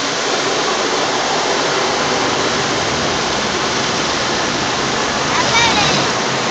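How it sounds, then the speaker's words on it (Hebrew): Water sprays hard at an automatic car wash, a loud, steady, hissing roar of jets that fills the whole moment without letup. "זה המים. שפריץ מים."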